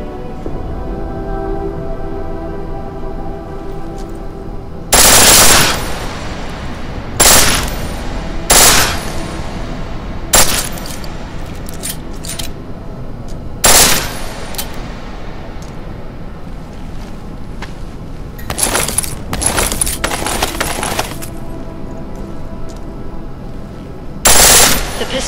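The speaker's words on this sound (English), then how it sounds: "Full auto will take down targets fast, but it'll burn through your ammo." Full-auto machine gun fire in Deus Ex: Mankind Divided, several loud separate bursts at irregular intervals over a steady windy ambient hiss, close and sharp.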